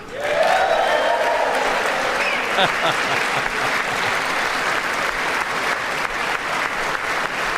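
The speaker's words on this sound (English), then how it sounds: "there's going to be so much applause the whole night" Applause rolls through the chamber at a State of the Union address, a loud, steady wash of many hands clapping that holds for several seconds with a brief shout near the start.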